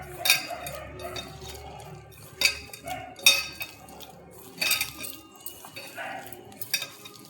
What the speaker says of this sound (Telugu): వేసి ఇది మొత్తం మ్యాష్ చేసుకోవాలండి